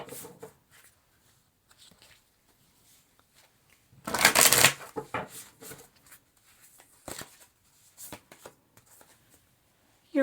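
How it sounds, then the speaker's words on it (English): Tarot cards shuffled close by, soft scattered card rustles and taps punctuated by one louder rapid riffle in the middle, with quiet gaps between. "So let's pull 2 cards from the Work Your Light for why you need it."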